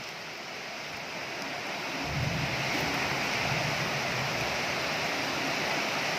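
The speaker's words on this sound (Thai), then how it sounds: "ลมแรงมากเลย" Strong storm wind roars through a rural garden in northeastern Thailand, a broad rushing noise that swells noticeably louder after a couple of seconds and keeps blowing hard.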